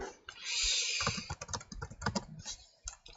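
Typing on a computer keyboard: an uneven run of close, crisp key clicks with short pauses between them, with no talk.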